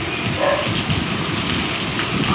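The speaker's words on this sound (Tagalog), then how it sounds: "Sobrang lakas ng ulan." Heavy rain pours down outdoors on Good Friday as a dense, loud, steady hiss and patter with no pauses.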